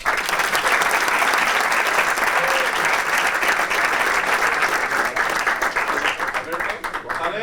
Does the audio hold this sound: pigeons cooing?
no